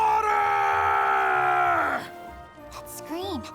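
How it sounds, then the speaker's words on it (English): A character's drawn-out strained cry from the video game Monster Hunter Stories 3, loud and sustained for about two seconds then breaking off, followed by brief game sound effects and a short sliding vocal yelp. "That scream, was that Gull?"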